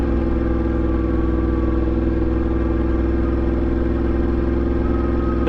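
Yamaha MT-10 motorcycle fitted with an Austin Racing exhaust, heard as a steady, loud, deep engine drone with a low throbbing rumble that holds for several seconds without a clear rev change.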